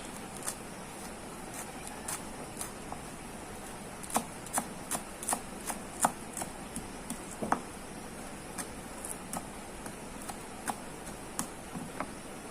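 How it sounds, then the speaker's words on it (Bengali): A knife chops coriander leaves for a sauce on a board, giving a run of sharp, close taps spread irregularly through the clip. Between the taps there is quiet, low room noise. "তো এগুলো সুন্দর করে কেটে নিচ্ছি"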